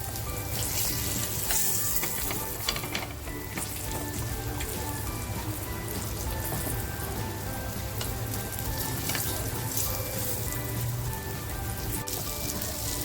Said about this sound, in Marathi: मच्छी सुद्धा आपली एकदम क्रिस्पी फ्राय झालेली आहे